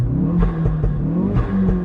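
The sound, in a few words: Ford Focus RS revving with pop and bang map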